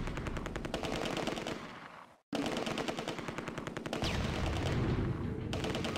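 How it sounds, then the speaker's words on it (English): Sustained machine-gun fire from German MG positions in the Close Combat war game, a dense rapid crackle of bursts with a brief gap midway, loud and continuous without voices. "The Germans are putting down heavy suppressing fire from their machine guns."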